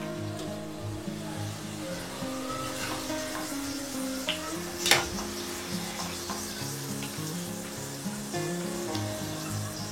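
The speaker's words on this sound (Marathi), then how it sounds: "कोथिंबीर सुद्धा आपल्याला छान मस्त क्रिस्पी होईपर्यंत अशी तळून घ्यायची आहे" Coriander leaves frying in hot oil in a kadhai while making Diwali chivda give a steady close sizzle throughout, with one brief sharper crackle near the middle.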